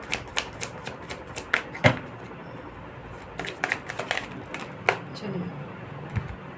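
Tarot cards are shuffled close by for a reading: a run of quick, light card riffles and slaps in irregular rhythm, over a soft background.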